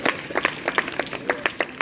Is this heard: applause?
yes